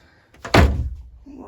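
A wardrobe door inside a truck house opens with one close, solid wooden thunk that fades quickly, followed by faint rustling.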